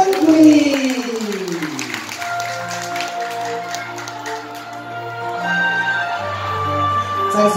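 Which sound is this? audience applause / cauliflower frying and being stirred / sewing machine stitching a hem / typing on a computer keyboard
audience applause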